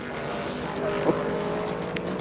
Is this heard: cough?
no